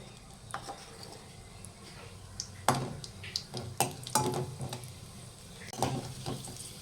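Cashews and raisins fry in ghee in a pan, a soft sizzle under repeated clinks and scrapes of a spoon stirring against the metal.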